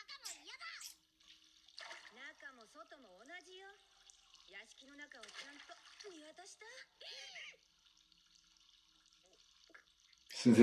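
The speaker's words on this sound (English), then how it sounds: "Listen to that running water." Water runs from a tap into a bath in an anime bathing scene, a soft continuous trickle with drips, heard quietly beneath people talking over it.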